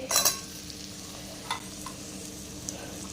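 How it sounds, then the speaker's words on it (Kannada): Capsicum fries in a pan for paneer capsicum curry, a quiet steady sizzle broken by a few sharp scrapes and clinks of a spatula stirring, close and unaccompanied by speech. "ಕ್ಯಾಪ್ಸಿಕಮ್ ಫ್ರೈ ಮಾಡ್ತಾ ಇದ್ದೇನೆ"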